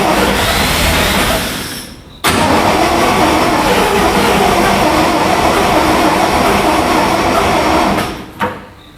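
An old REO truck engine cranks over repeatedly without catching, a loud continuous churning grind that drops out briefly, resumes, then stops with a final short burst.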